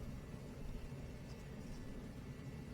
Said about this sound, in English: Pardon the noise, the torpedo heater just kicked on.